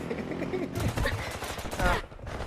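Rapid automatic gunfire from the shooter game Delta Force crackles in dense bursts, close and loud, with a brief pause near the end before firing resumes, and game sounds layered underneath.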